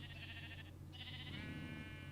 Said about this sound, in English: There's just a wolf that's trying to kill a sheep